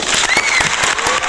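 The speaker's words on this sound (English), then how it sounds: "let's give them a big round of applause" A room full of people gives a big round of applause for debate participants at an online English-lesson climate change debate, with steady, dense clapping that carries on without a break.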